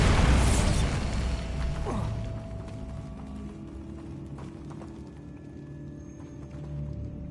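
A Bombarda explosion spell from Hogwarts Legacy goes off as a loud, dense blast at the start, then fades into a low rumble and scattered mechanical rattles with a faint rising tone.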